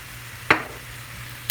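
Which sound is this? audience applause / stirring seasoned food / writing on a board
stirring seasoned food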